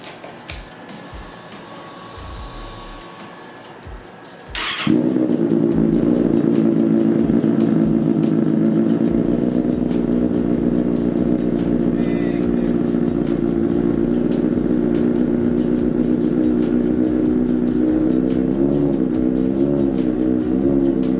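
A 2024 Kawasaki ZX6R motorcycle with a slip-on exhaust fires up after a brief cranking whine and settles into a loud, steady, throaty idle that runs on without pause.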